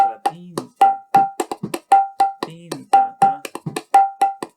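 A kirtan drum is played by hand in a finger-pattern practice, with crisp sharp strokes and ringing pitched tones in a quick, repeating rhythmic cycle, close and clear with no talking.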